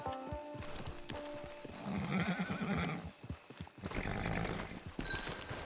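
In the Red Dead Online video game, a horse whinnies and snorts amid clip-clopping hooves and scattered game sounds, fairly clear and close with no speech.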